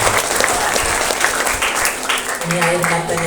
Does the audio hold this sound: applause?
yes